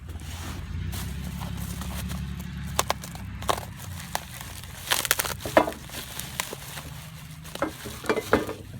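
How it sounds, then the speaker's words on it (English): Packaging being pulled off a BMW R1200 GSA top box mounting plate, with crinkly rustling and scattered sharp crackles and taps over a steady low hum, close by and moderately loud. "Let's unwrap this plate and see what we got."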